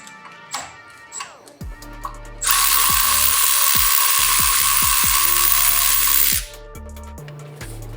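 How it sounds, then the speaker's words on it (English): A power tool whirs and ratchets as the lower shock bolt comes off a Lexus GX460 during a suspension install. Clicking and short bursts come first, then a sustained loud run of about four seconds, followed by more clicks. "we're going to go ahead and remove the bolt holding the bottom of the shock"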